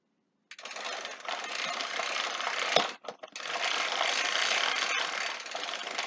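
A bicycle chain is backpedaled through a Park Tool chain cleaner, giving a close, steady whirring rattle that starts abruptly and briefly breaks with a couple of clicks before running on.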